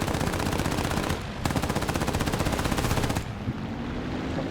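Aircraft machine guns firing in War Thunder air arcade combat from an A5M4 fighter: loud, continuous rapid bursts of gunfire that pause briefly, resume, then cut off, leaving engine drone underneath.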